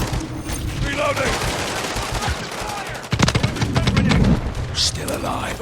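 Gunfire in the video game Modern Warfare 3, bursts of automatic fire and sharp shots rattling close by over a noisy battlefield bed, with voice callouts in between.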